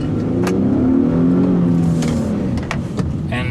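A 2015 Infiniti QX70 S Elite Sport pulls away from rest, its engine rising in a steady, loud rev with a few clicks and knocks on top, heard from inside the cabin.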